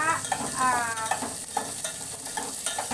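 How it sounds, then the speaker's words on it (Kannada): Green chillies, onion and curry leaves frying in a mustard-cumin tempering for a North Karnataka chow chow bath, a steady close sizzle with repeated spoon stirring and scraping against the pan. "ಹಸಿಮೆಣಸಿನ್ಕಾಯಿ ಈರುಳ್ಳಿ ಕರಿಬೇವು ಎಲ್ಲ ಒಟ್ಟಿಗೆ ಹಾಕ್ತಾ ಇದ್ದೀನಿ"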